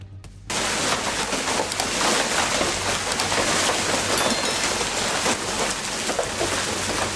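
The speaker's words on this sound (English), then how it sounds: "The roar of hail pounding down sounds like thousands of tiny bullets striking at" Hail pounds down in a storm, a dense, steady roar of countless hard impacts that starts abruptly after a brief quiet moment and stays loud and unbroken throughout.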